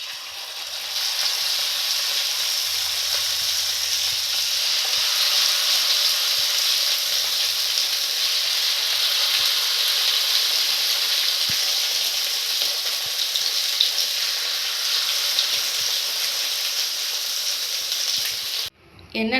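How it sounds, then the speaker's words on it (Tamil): Marinated chicken deep-frying in hot oil, a continuous bright hiss and bubbling sizzle held steady for many seconds, close and loud, cutting off abruptly at the end. "இந்த டைமில் நம்ம சிக்கனை ஃப்ரை பண்ணி எடுத்துக்கலாம்."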